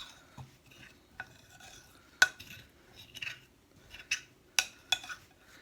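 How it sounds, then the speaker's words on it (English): A spoon stirring an oobleck mix of cornstarch and water in a bowl, giving sparse clinks and scrapes with soft sloppy squelches in between, close and fairly quiet. "you can always take a spoon and you can mix it with a spoon"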